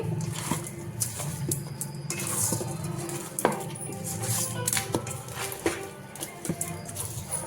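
Chicken pieces for Sunday chicken dum biryani are mixed in a pot, a spoon clinking and scraping against metal in irregular, close strokes over a faint sizzle.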